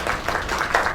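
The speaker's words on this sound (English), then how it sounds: "Another round of applause." An audience applauds in a short, moderately loud burst of steady clapping.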